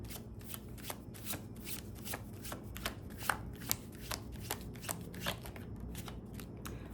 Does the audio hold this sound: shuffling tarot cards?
yes